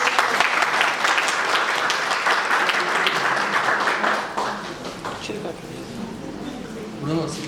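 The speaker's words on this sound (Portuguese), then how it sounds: "Bruno, salve de palmas." An audience applauds at an educational talk, dense clapping that stays steady and loud for several seconds, then thins out toward the end with some voices murmuring underneath.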